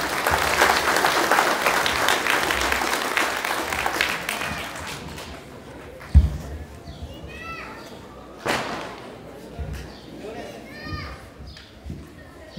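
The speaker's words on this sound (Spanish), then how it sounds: "Con esos aplausos lo recibimos" Applause welcomes a newly invested community authority at an insignia-change ceremony in El Sitio, strong clapping for the first few seconds, then fading into scattered claps, thumps and a murmuring crowd.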